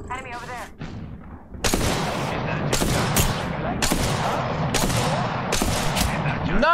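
Sharp, loud gunshots from Apex Legends ring out in a string of about five evenly spaced blasts over a steady game backdrop, with a brief stretch of speech before the first shot.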